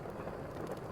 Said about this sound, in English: Outside, the rain continued to fall